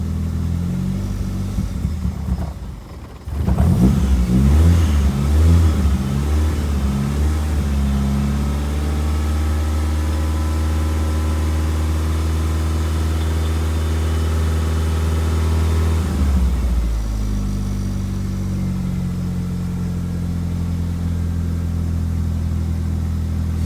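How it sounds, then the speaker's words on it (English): A Mazdaspeed engine starts after an oil change: a short starter crank, then a loud steady idle with a deep low hum that rises briefly and settles back to a smooth, even idle. "Alright guys, just gonna start up the engine."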